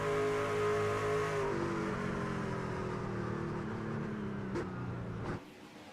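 A race car engine in a racing video game at Michigan International holds a loud, steady droning rev, then cuts off abruptly near the end.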